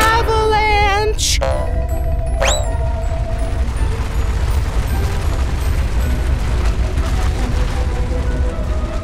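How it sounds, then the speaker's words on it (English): A loud, continuous low rumble roars on without pause, with a few sharp tonal squeals early on, like a huge mass of snow thundering down a slope. "Can you hear it? This is an avalanche!"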